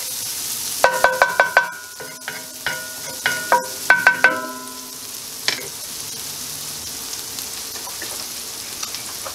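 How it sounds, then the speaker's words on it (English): Shallots sweating in a cast iron skillet, a soft steady sizzle under a burst of metallic clanks and taps from a utensil against the pan early on, then a quieter hiss alone. "The shallots. Sweat them down."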